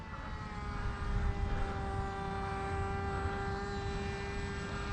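A Bixler model airplane flies an autonomous mission under PixHawk control. Its motor gives a steady, fairly faint droning whine that holds an even pitch, with no voices.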